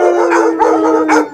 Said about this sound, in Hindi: उसके घर के पास हमेशा कुछ कुत्ते भौंकते रहते हैं।